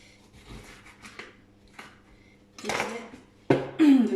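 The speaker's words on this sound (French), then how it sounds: "je coupe mes citrons en deux" A knife cuts lemons in half on a small board, giving a few soft taps early, then louder clacks and scrapes against the board, ending with a sharp knock and brief rattle near the close.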